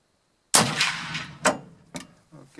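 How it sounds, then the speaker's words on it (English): A Pedersoli Boarbuster Shadow .45-70 lever rifle fires a single loud, sharp report with open sights at 66 meters outdoors, followed by a decaying echo and a couple of fainter clanks. "Now I'm going to shoot with the open sights at 66 meters."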